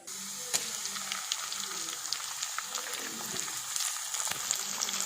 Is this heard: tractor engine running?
no